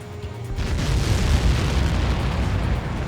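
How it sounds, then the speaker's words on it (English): A missile impact explosion in Ace Combat 7, a loud, sustained roaring blast with deep rumbling that fills the whole stretch after a sudden onset. "How many got caught in that explosion?"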